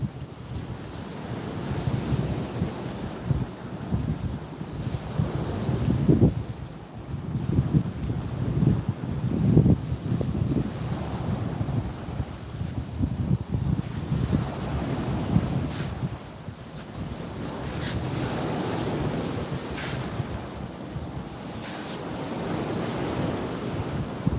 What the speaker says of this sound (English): I know you're probably catching a lot of wind.